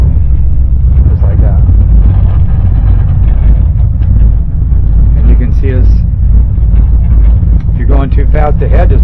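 Twin Yamaha F150 outboard motors on a 2005 Seasport boat rumble steadily at low speed while maneuvering, a loud continuous engine drone with people talking over it.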